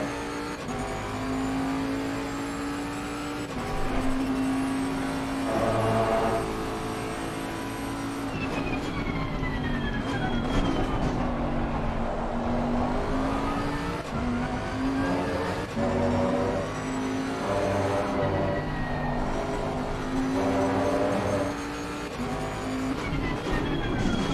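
A race car engine in the SimSpace R5 sim racing game at Kyalami drones steadily throughout, its pitch climbing and dropping through gear changes as it downshifts to first, loud and close with no talking.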